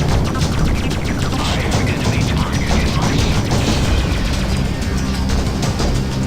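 Spaceship weapons fire in a continuous, dense barrage in the space game Freelancer, loud and steady with crackling bursts over a low rumble and no break throughout.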